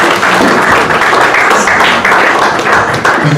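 An audience at a finalists dinner claps steadily for their peers, a loud, dense patter of many hands continuing without pause.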